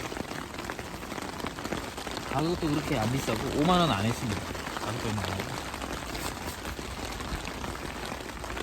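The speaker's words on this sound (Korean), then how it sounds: "아 이렇게 비가 오는 거 캠핑 갈 때마다 이렇게 비가 오는지 참 모르겠네요" Heavy rain falls steadily on a backpacking campsite in a downpour, a dense, even patter running throughout while someone talks over it.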